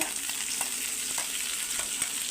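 Onion pieces and curry leaves fry in a mustard-seed tempering, giving a close, continuous sizzle with light stirring scrapes throughout and no voices.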